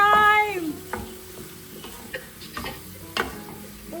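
Ackee and saltfish cooking in a pan, a soft steady sizzle under scattered clinks and scrapes of a utensil stirring, with a brief tonal squeak at the start; no talking.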